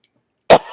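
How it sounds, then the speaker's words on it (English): A single sharp cough after a moment of silence, close and loud, trailing off into a brief breathy tail. "that was a cough."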